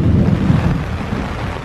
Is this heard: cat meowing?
no